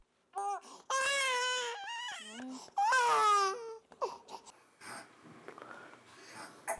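An infant cries loudly at close range in two long, wailing bursts, then trails off into short whimpers, sniffles and snorting breaths indoors.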